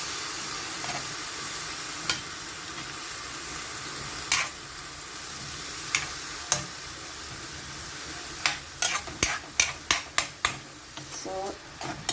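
Chicken pieces frying in a pan for arroz caldo give a soft continuous sizzle and hiss, with scattered utensil clicks and scrapes that become more frequent toward the end.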